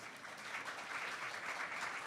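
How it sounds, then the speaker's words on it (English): Audience applause fills a room at a hosted evening event, steady dense clapping from a crowd that runs alone and evenly for its whole length. "give yourselves, please, a round of applause"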